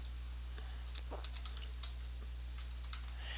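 Typing a password on a computer keyboard: a sparse run of light key clicks, close and fairly quiet, over a steady low hum.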